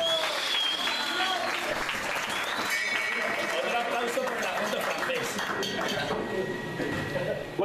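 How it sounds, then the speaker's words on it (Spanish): Concert audience applauding at a heavy metal show, a dense wash of clapping that stays loud and steady throughout, with crowd noise mixed in. "¡Un aplauso, joder!"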